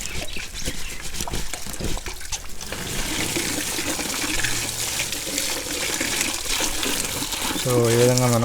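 AC air filters being rinsed under running water, a steady splashing trickle that runs through the whole stretch, with some talk over it and a short tonal sound near the end.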